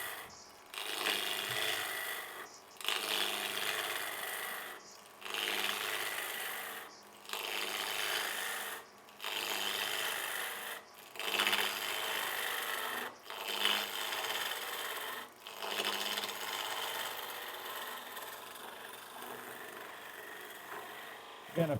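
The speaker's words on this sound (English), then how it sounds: "You have the back of the handle raised up a little bit so that you really are actually, peeling the wood rather than scraping it" A wood lathe tool takes a peeling cut while turning ring stands, a raspy shaving hiss coming in repeated passes of about two seconds separated by short pauses.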